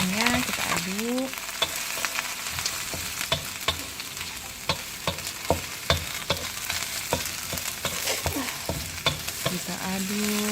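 A spatula stirs black squid with red, green and bird's-eye chilies in a sizzling pan. Steady frying hiss runs under repeated sharp scraping clacks against the metal, close and moderately loud, with no talk.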